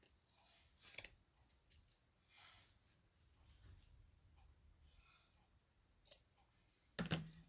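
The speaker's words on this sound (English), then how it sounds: "So let me cut off, snip a bit of this doily off here." Scissors snip a piece of lace doily in a quiet room, a few sparse, faint cuts spaced apart with a sharper snip near the end.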